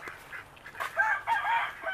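Chickens on a homestead in mid-July, giving a few close clucks and squawks over two seconds, with some louder calls toward the end and no talking.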